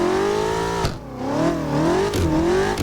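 A BMW M5 F10 V8 engine revs in the Assetto Corsa racing game during a drift, a loud throaty drone rising and falling with brief dips as the throttle lifts and gears change.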